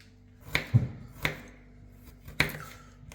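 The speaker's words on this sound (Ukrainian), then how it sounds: "ми чесник нарізаємо вручну" A knife chops garlic by hand on a cutting board, three or four crisp, separate knocks spaced unevenly, close and fairly quiet with nothing else around.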